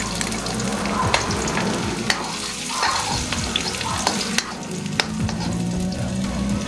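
Garlic crackles and sizzles in hot oil for a squid adobo in coconut milk, a close, continuous frying hiss broken by sharp pops and the scrape of stirring.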